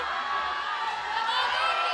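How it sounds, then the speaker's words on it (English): A crowd cheers and whoops at a bouldering competition final, a steady wash of voices and yells heard from some distance behind a speaker. "you can hear the crowd behind me"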